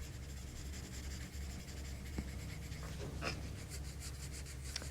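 A regular graphite pencil shading the dark side of a drawn sphere on paper, a soft continuous scratchy rub, faint and close, steady with slight variations in stroke, no talking.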